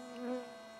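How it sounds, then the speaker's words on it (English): A bee buzzes briefly past, a faint rising and falling drone that swells and fades within a second against quiet background hiss. "Heard bee buzz by, I bet."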